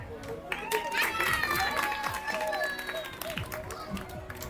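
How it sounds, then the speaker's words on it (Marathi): A crowd of students and teachers claps for a prize winner at a school quiz event, a dense burst of applause with chatter and voices mixed in, fairly close and sustained through the moment. "टाळ्या"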